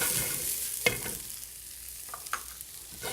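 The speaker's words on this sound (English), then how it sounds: "I'm going to add my mushrooms because they need to saute a little bit." Mushrooms and cauliflower sautéing in a pan for a tofu steak dish, a soft steady sizzle broken by a few sharp clicks of stirring, close and quiet with no talk.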